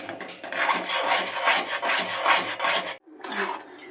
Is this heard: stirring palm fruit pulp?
yes